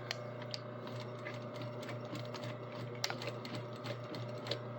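A sewing machine stitches through old, decayed fabric, giving a steady mechanical whir with a low hum and a fast, even clatter of needle strokes, close and continuous throughout.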